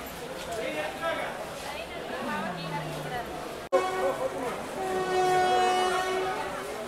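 An intercity express train between Coimbatore and Madurai rumbles along steadily near Palani with a hum and wind noise, briefly cut off, then tonal whines rise as it continues; a voice speaks over it.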